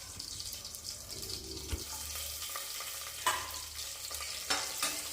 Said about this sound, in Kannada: ಇದಕ್ಕೇ ನಾನೀಗ ಗೋಡಂಬಿ ಹಾಗೂ ಹಸಿಮೆಣಸಿನ್ಕಾಯಿನ ಸೇರಿಸ್ಕೊಂಡು ಫ್ರೈ ಮಾಡ್ಕೊತಾ ಇದ್ದೀನಿ